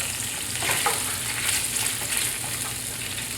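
Maple syrup poured into a hot pan of pork chop drippings and vinegar sizzles steadily as a sweet pan sauce, a loud, continuous frying hiss with stirring, close up and with no talking.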